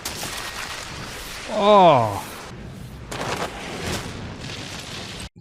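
Rumbling explosions and crackling fires from the anime Frieren play as a continuous low roar, while a man gives a brief exclamation over them partway through.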